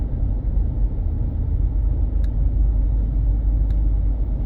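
A car drives along a newly built road in the parish of St. Andrew, Barbados, giving a steady close low rumble of engine and tyres with no talk.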